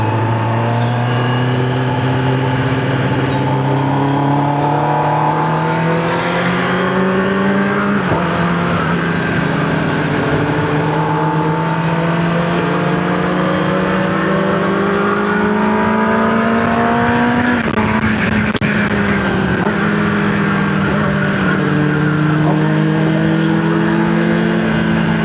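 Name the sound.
superbike with Arrow exhaust revving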